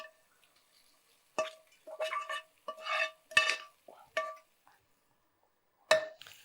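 A utensil scrapes and clinks against a metal pot as fried mutton is mixed into Punjabi mutton biryani, several separate ringing strokes with quiet gaps between them.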